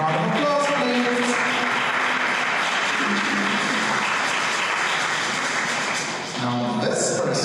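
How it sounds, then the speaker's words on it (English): Sustained applause from an audience at a live event, a dense continuous wash of many hands clapping for several seconds, with voices and cheers mixed in and a brief dip near the end. "Round of applause, please."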